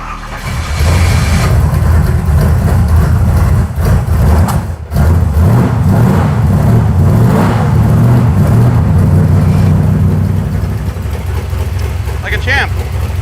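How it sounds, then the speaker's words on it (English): A car engine with a freshly installed spark plug fires up and settles into a loud, rough idle with some revving, a brief dropout near the middle and a short high squeal toward the end. "This will help it fire right up."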